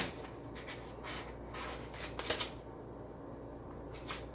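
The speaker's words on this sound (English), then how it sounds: "I'm just shuffling the cards" Oracle cards shuffled by hand in a tarot-style reading, a soft continuous papery riffling with repeated brief flutters and rubs, close and fairly quiet, with no talk.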